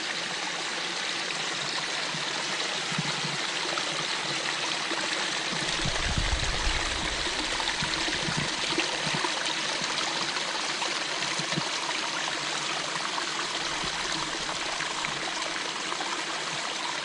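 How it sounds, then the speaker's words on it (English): Water splashes and trickles steadily down a pondless waterfall at a pond-building shop display, a continuous close, even rush with faint low thumps midway and no voices. "Pondless waterfall."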